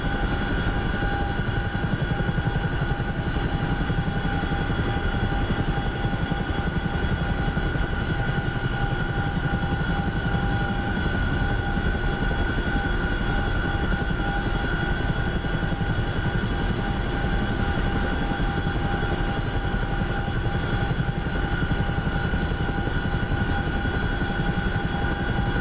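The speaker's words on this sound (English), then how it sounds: "there's a Blackhawk coming in behind us too" A Black Hawk helicopter drones loudly and steadily, a heavy, unbroken rotor and engine roar with a constant whine layered on top and no talk.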